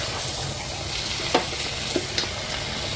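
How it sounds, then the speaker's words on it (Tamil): Spices and black pepper sizzle and crackle in hot oil with a steady frying hiss, while a few soft taps of a stirring utensil come through close by. "நல்லா மசாலாலாம் 1 நிமிஷம் அப்படியே எண்ணெயிலேயே நல்லா வறுபடட்டும்."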